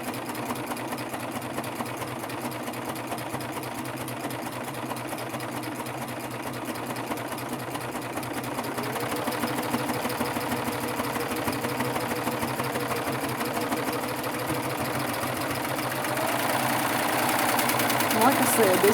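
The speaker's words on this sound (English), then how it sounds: "So I'm going to start sewing here, and I'm just going to stretch this rib knit." Baby Lock Triumph four-thread overlocker sewing stretched rib knit, a continuous close motor hum with fast rhythmic needle chatter that grows slightly louder and denser partway through, with a voice talking over it.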